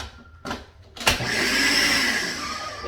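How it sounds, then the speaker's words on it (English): A kitchen blender chops strawberry shortcake doughnut pieces: a couple of brief pulses, then a steady, loud motor whir that runs continuously to the end, close by. "when using a blender to chop it"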